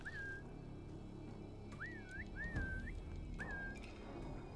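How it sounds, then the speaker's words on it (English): Whistling to lure an enemy toward a hiding bush in Assassin's Creed Valhalla, The Siege of Paris DLC: four clear rising, wavering whistles in separate bursts over quiet game ambience. "Come here to the whistling bush."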